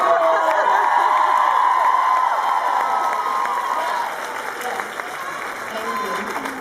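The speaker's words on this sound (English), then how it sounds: "Let's hear it one more time with an incredible welcome for Sexy Betsy" A large live-event crowd claps and cheers loudly to welcome a performer onto the stage, a dense, steady wave of applause that eases slightly toward the end.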